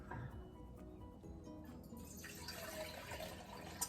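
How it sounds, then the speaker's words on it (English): Broth is poured into a soup pot for broccoli soup, a steady liquid splashing and trickling that runs continuously and fairly close, with no talk over it. "I'm gonna use 6 cups of broth."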